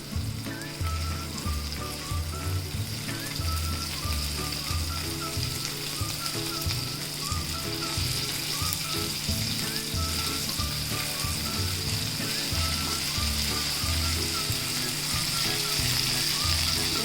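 Prawns fry in a pan, turned to cook on both sides, with a steady, close sizzle that runs the whole time over a faint rhythmic background.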